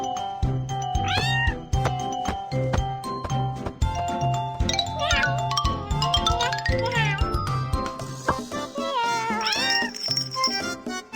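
A cartoon kitten hiding under a car meows repeatedly in high, drawn-out cries over bouncy background music with chimes and tinkling effects.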